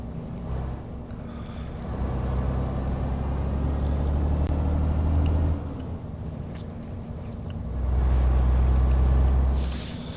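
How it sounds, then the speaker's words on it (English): Renault Premium truck in a trucking video game: a steady low engine drone swells twice, with short sharp air-brake hisses scattered over it. No one talks. "And I have also added Creamy Creech Bum's Renault Premium sound."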